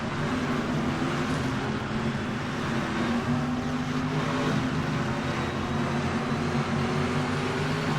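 A generic Camaro in rFactor 2 drives at Interlagos, its engine a steady, continuous drone with a constant low rumble and no noticeable revving swings, playing alone without talk.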